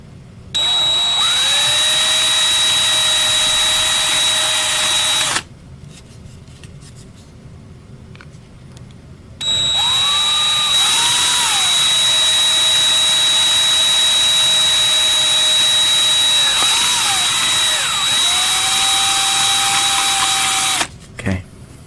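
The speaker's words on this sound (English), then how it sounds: "now let's drill these out." A power drill bores holes into a 1/64-scale NASCAR display case with LED lighting, two long close whining runs that bog and rise under load, separated by a quiet pause.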